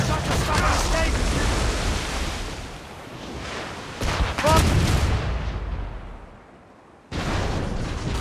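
Musket volley fire in the Assassin's Creed Rogue video game: loud, dense bursts of gunfire and rumbling blasts that fade before a fresh volley, with shouted commands over the shooting.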